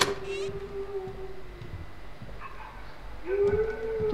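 A dog in the horror video game Home Sweet Home, set in an abandoned house, gives drawn-out, tonal whining howls: one long call at the start, then a second rising call after a pause, with faint background noise between.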